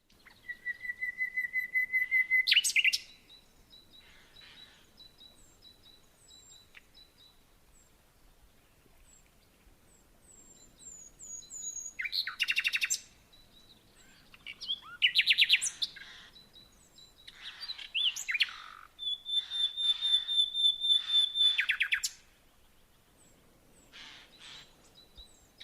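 Birds in a wetland chirp and whistle in scattered bursts, some close and bright, separated by quiet stretches.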